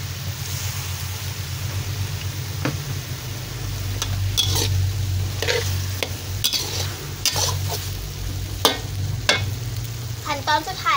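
Stir-frying in a large tray-sized pan after light soy sauce goes in, holding a steady loud sizzle with repeated scraping and clanking of the spatula against metal throughout.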